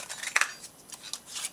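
A Stampin' Up! square paper punch snaps out a square, with a few sharp close clicks and papery crunches spread across a brief stretch and no voice.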